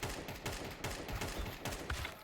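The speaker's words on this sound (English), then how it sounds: "we can see that you're moving and shooting" Rapid gunfire in Counter-Strike 2 while the player moves, a dense stream of quick overlapping shots, fairly faint and without talk.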